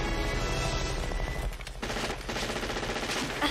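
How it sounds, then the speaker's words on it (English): Minigun fire from the film Predator, dense sustained rapid bursts with booming low rumble, briefly dipping and resuming at full loudness. "he's picking up his minigun"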